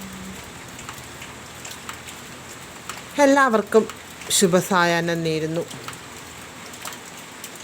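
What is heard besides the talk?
rain falling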